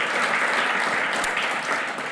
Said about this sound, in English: One more round of applause for Orlando.